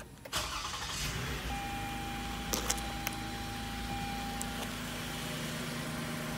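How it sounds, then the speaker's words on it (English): A 2020 Toyota Sienna Limited engine starts with a short crank and catches, then settles into a steady, smooth idle with a faint whine, a couple of light clicks partway through, close and quiet, with no talking. "Let me do a short startup of this car."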